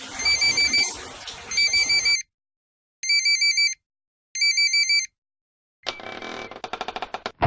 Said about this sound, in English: Hey, your phone is ringing.